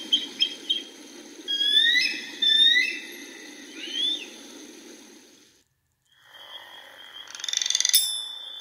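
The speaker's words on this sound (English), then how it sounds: "Frogs." Frogs croak and chirp in a series of close, overlapping calls over a low rumbling background, with a brief quiet gap before a burst of brighter calling near the end.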